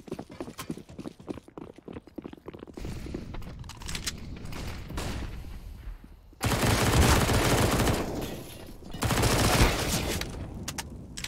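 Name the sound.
SMG gunfire in video game CS:GO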